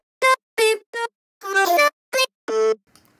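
Dry vocal chops, seven short pitched syllable stabs in a quick choppy rhythm, each cut off cleanly with silence between, loud and close, no reverb or delay tail.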